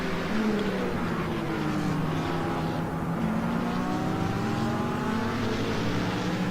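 Race cars roaring around a track in a steady, dense engine drone, several motors overlapping with shifting pitch throughout, loud and continuous with no talk.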